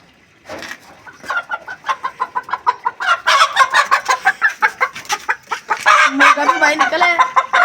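Hens and a rooster cluck loudly and repeatedly at close range, a busy run of rhythmic squawks that grows denser, with a person's voice mixed in.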